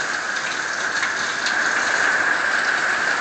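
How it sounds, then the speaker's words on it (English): Heavy tropical storm rain pours down in a dense, steady hiss, and slight surges hint at gusting wind. It is loud and close with no voices. "just wanted to give y'all an idea of what a tropical storm feels like"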